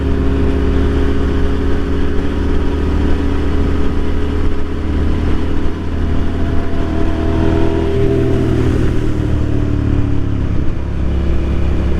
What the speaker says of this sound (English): It's nice to be on a little fast bike instead of the 125.